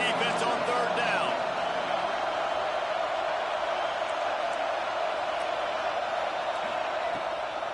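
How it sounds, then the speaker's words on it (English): Stadium crowd roaring steadily at a college football game between Auburn and Texas A&M on a defensive third down, a dense, sustained wash of noise holding at full volume with faint speech mixed in. "Decibels rising as the crowd gets behind this defense on third down."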